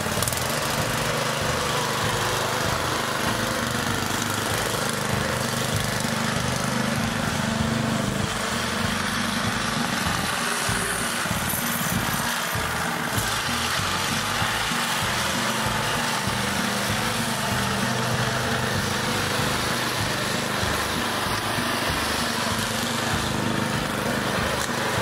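A homemade snow dog's small gasoline engine runs outside in the snow, a steady buzzing drone with a throbbing low rumble, continuous and fairly close for the whole stretch.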